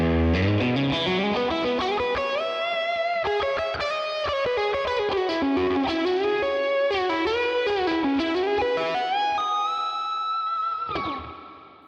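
A distorted electric guitar, through an amp's lead channel and an overdrive pedal, plays a sustained, singing lead melody with bends, drenched in spacious reverb, then stops abruptly near the end.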